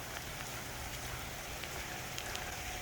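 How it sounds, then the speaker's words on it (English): Steady rain falls outside a shop, a dense continuous hiss of drops pattering on surfaces, fairly close and even throughout, with no talk. "It's not raining that bad right now."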